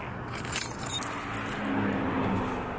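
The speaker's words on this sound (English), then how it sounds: "I dropped my keys." Keys drop and jangle briefly near a car on a corn maze outing, a short metallic rattle that comes over low vehicle and outdoor noise.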